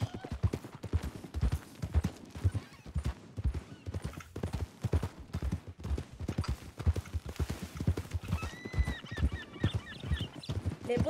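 Horse hooves clip-clop at a steady trot in the RedM western roleplay game, a continuous rhythmic patter of hoofbeats with a brief whinny near the end, mixed with faint voices and game ambience.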